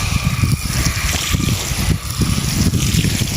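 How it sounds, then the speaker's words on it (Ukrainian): Water pours and splashes into freshly dug furrows in a spring vegetable garden before sowing, a steady close gushing with rhythmic surges. "Обов'язково заливаю, щоб була влага."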